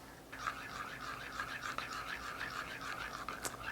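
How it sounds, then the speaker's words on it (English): Dijon mustard and melted butter are stirred together in steady, rhythmic scraping strokes, soft and close, repeating about three times a second with no talking. "Okay, then just stir all that up."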